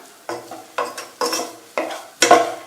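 Cardamom being stirred into a thick malai peda mixture in a pan, heard as five or six evenly spaced, close scraping strokes, each fading out before the next, with a soft sizzle underneath.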